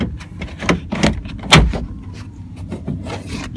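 Plastic door card on a Fiat Punto Grande being lifted and knocked back into place, giving several short close knocks and clicks of plastic against the door, with one sharper thump in the middle.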